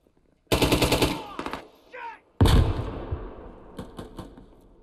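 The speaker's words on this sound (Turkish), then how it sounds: "Ben de onu vurdum." Gunfire in the military shooter Squad: a loud burst of rapid automatic fire, a short pause, then another heavy volley followed by scattered single shots, with a faint voice briefly in between.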